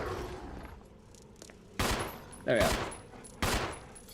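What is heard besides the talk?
gunfire from a gun in a video game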